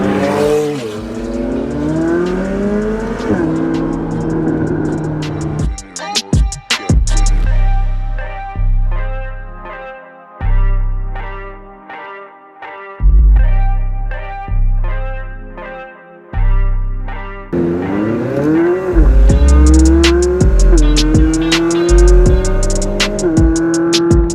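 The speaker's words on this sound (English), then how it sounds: "It sounds like a Formula One car." Loud, high-pitched racing engines scream past with rising and falling revs, several cars in quick succession, roaring continuously with sharp gear changes.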